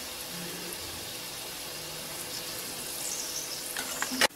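Vada fritters made from chana dal frying in a small amount of oil in a pan give a steady, close hissing sizzle throughout, ending with a brief metallic clatter.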